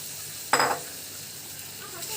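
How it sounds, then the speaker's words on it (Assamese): Fried paneer cubes drop into a pan of curry with a brief, sharp burst of sizzling that quickly settles to a quiet simmer with a light scrape near the end. "এতিয়া মই ফ্ৰাই কৰি থোৱা পনীৰখিনি ইয়াত দি দিম।"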